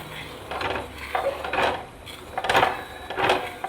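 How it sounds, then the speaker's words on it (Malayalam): Jackfruit powder being stirred into a halwa mixture until smooth, heard as a series of soft scraping, rubbing strokes of a spoon against a pan, repeated in an uneven rhythm at close range with no talk. "ആ ചക്കപ്പൊടി ഈ കൂട്ടിനകത്തോട്ടിട്ട് നന്നായിട്ട് ഇളക്കി അത് കട്ടയില്ലാതെ ഇളക്കി യോജിപ്പിച്ചെടുക്കണം"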